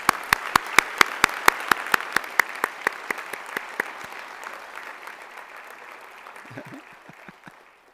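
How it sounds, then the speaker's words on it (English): Applause for outstanding students at a university honors convocation: a dense crowd ovation with a few sharp, rhythmic claps standing out early, gradually thinning and fading toward quiet scattered claps at the end. "I'd like to have you join me in a round of applause for outstanding students."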